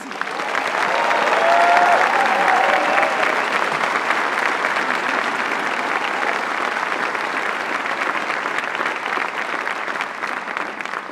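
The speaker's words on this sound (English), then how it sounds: "Let's give them another round of applause." An audience at a medical school commencement applauds graduates with sustained, dense clapping that swells early and then holds steady, with faint crowd noise mixed in.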